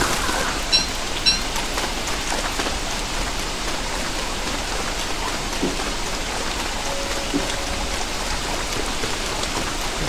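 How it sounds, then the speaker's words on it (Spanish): Steady, even rainfall in the video game Don't Starve patters continuously at moderate loudness, with a few faint drips standing out briefly. "Y todavía sigue lloviendo"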